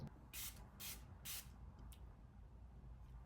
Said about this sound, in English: I normally use a setting spray to meld this together